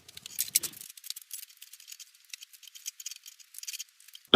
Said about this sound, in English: I think I just like ripped this from YouTube, making a titanium and meteorite ring.